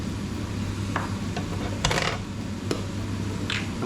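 Mushrooms frying in a pan for ground beef and mushroom bake, giving a steady, dense sizzle throughout with a few brief scrapes and clicks of a utensil against the pan.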